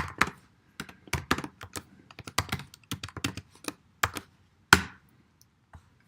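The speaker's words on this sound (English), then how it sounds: "Let's type git log." A computer keyboard is typed on in short bursts of crisp clicks, close and distinct, ending with a heavier tap like the enter key.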